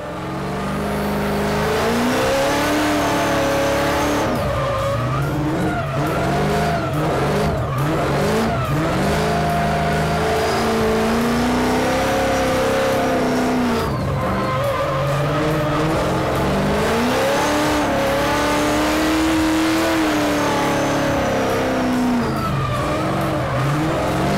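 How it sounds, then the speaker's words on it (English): An 800HP Nissan 350Z drifts on a skid pad, its engine roaring and revving in rising and falling sweeps while the tires squeal continuously, loud and close for the whole stretch. "I got a little bit of warm-up on the skid pad, far away from hard things and soft people"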